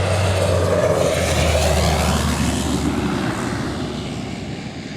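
An aircraft comes in over northern Canada, a loud, close engine drone that slowly fades and shifts in pitch as it passes.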